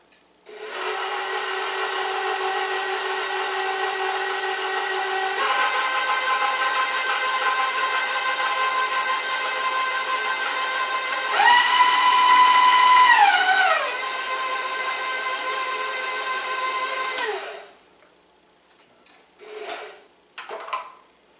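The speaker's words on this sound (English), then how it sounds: "you know what happens when you first turn on the blender, you make a real mess" A blender motor whirs steadily for about seventeen seconds while mixing blueberry coffee cake batter, surging higher in pitch midway, then winds down into a few soft clunks.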